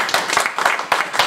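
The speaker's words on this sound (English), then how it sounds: "I want you all to give yourselves a big round of applause." A seminar audience claps together, a dense, close burst of many hands that sounds loud and brief.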